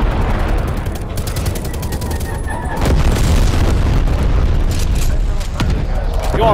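Napalm strike in Call of Duty Black Ops Cold War, with heavy booming blasts and rolling gunfire building into a dense, loud barrage while players talk over the chaos.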